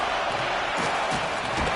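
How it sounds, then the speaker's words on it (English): Video game arena crowd from NHL 26 ice hockey, a steady broadband roar of fans cheering and getting loud in the closing seconds, continuous and fairly loud throughout with no clear voices standing out. "the home team giving the fans something to cheer and get loud about"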